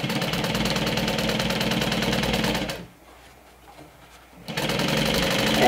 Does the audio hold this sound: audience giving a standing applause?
no